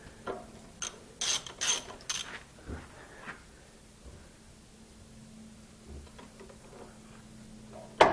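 A socket ratchet loosens cylinder head bolts on a Briggs and Stratton 31F707 engine, producing a few quick clusters of close, faint clicking, then near quiet with a low hum and a final clatter.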